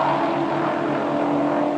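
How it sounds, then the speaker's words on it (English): Touring race cars, a Mitsubishi Starion and a BMW, roar past together in a 1987 BTCC race, their engines a loud, sustained droning wail with no break across the moment. "A tremendous race between these 2 leading cars,"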